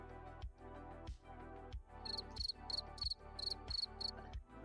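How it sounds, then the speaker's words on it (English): Crickets in Star Wars: The Old Republic chirping in regular rapid pulses over a low rhythmic thumping music-like background. "And then the crickets come out to play."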